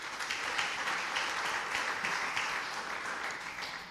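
A church congregation applauds in a steady, dense wash of many hands clapping that lasts throughout, moderately quiet and slightly distant, with no talking over it.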